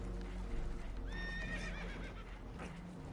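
Spooked horses whinny and neigh aboard a damaged, leaking boat in Red Dead Redemption II, a rising series of shrill, wavering calls over a steady low rumble of water and motion, with no talk.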